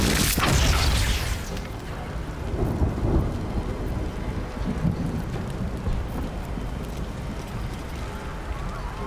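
Lightning bolt spell cast in the fantasy role-playing game Baldur's Gate 3: a sharp, loud crack and booming thunder burst up front, then a long rolling rumble with rain-like hiss that gradually fades.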